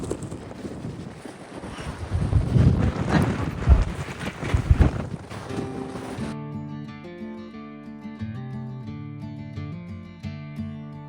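Strong wind buffets a boat near volcanoes, roaring and gusting loudly into the microphone for several seconds before dropping away.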